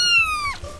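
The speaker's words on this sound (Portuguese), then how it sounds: "1000 gatos." A single clear cat meow at an animal shelter in California, close and alone, rising then sliding down before fading.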